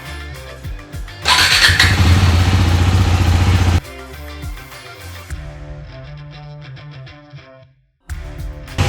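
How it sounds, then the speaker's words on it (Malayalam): A motorcycle engine cranks and catches, roars loudly for a couple of seconds, then settles into a steady close idle with a light rhythmic ticking, briefly cutting out before restarting; no talk is heard. "സോ നമുക്കൊന്ന് എൻജിൻ 10 minutes സ്റ്റാർട്ട് ചെയ്തിടാം."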